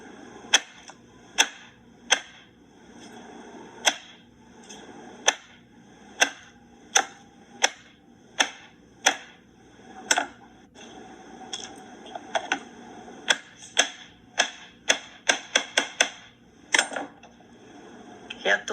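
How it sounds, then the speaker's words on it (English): A knife chops cabbage for egg rolls in quick uneven strokes, about thirty sharp close cuts with short pauses between runs, over a quiet room background. "This is a cabbage. Cut it like a chow mein, like this"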